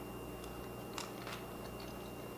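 Crunchy bites and chewing of air-fried French toast sticks dipped in syrup with raspberries, a few sharp close crunches standing out against a steady background hiss.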